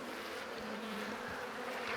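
Honey bees swarming around an opened hive box stacked with honey supers make a dense, continuous buzzing drone, close and steady throughout with no voices.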